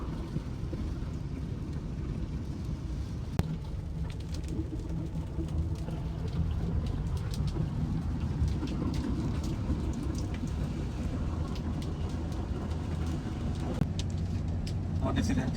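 Steady rain falls at a petrol pump in Bali with a constant wash of noise, scattered drops tapping nearby, while faint voices and occasional birdsong come through.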